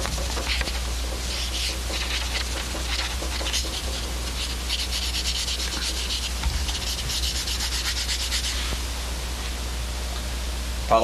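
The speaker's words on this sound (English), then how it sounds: "Switch to the green stuff. This is a very fine polishing compound." A solid-body electric guitar is buffed by hand with a very fine green polishing compound, making a continuous close-up rubbing and swishing with quick back-and-forth strokes over a low steady hum.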